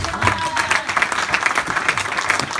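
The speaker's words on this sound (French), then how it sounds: "Donnons une acclamation au Seigneur." A church congregation claps and cheers in acclamation during a French-language sermon, a lively, dense wash of applause with crowd voices mixed in, sustained for the whole short stretch.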